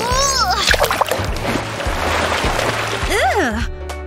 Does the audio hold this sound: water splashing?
yes